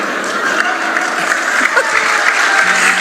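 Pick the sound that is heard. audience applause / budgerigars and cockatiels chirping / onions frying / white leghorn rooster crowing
audience applause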